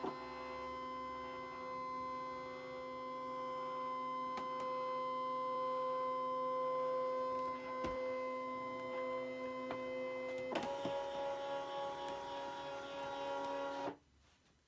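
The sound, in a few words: Brother ScanNCut machine scanning a stamped image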